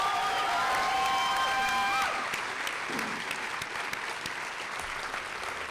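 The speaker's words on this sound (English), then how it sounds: "join me in one more big applause for Dr. Weiblamato" Sustained audience applause at a health sciences university white coat ceremony, a dense steady wash of clapping from a large crowd, with fading musical tones at the start.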